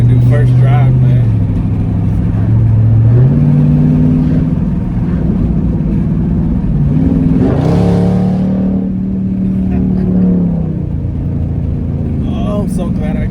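A 2019 Dodge Charger Scat Pack with its mid muffler deleted drives along, its engine droning loudly and shifting pitch through the gears, with a louder rev swell midway and someone talking over it.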